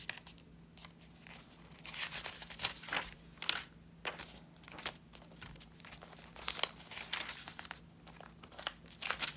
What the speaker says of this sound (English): This is parchment writing paper